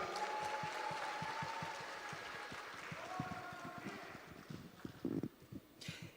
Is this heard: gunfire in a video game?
no